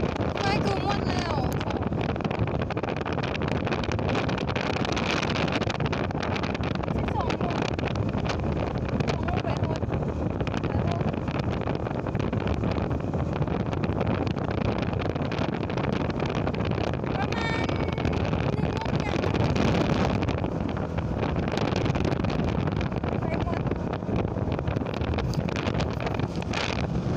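Steady, heavy wind roar buffeting the microphone while riding a vehicle along a road on the way to Nam Tha, loud and constant throughout with a voice faintly under it.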